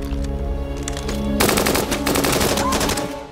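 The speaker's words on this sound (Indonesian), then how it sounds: "Mendengar suara tembakan seketika membuat Jenderal Well sadar kalau di luar sedang tidak baik-baik saja" Machine gun fire in a mafia action film fight scene, a dense fast burst of gunshots that starts abruptly partway through over a low musical score and rattles on loudly to the end.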